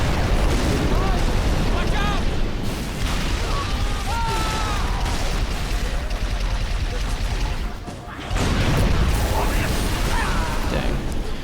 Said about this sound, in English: almost got shot by that fuel rod cannon